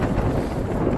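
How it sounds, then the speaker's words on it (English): Strong wind at a campsite on Low Fell in the Lake District buffets the microphone in a constant rumbling roar, loud and close, with no other sounds standing out. "It's going to be a windy old camp, this one."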